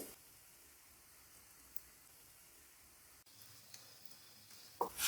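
An egg paratha fries in ghee on a hot pan, giving a soft, steady sizzle throughout with a couple of faint clicks and a brief clatter near the end.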